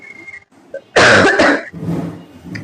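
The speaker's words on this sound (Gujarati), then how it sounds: "શરદી ઉધરસની તકલીફ થાય છે એટલે વચ્ચે થોડું ડિસ્ટર્બ થાય છે" A single harsh cough from a person with a cold close to the mic, followed by a throaty clearing, in an otherwise quiet room.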